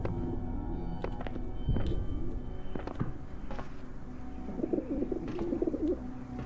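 Pigeons cooing in the video game The Talos Principle: soft, low burbling coos recur through a steady ambient hum, with the clearest bubbling run late on, over a few faint clicks and knocks.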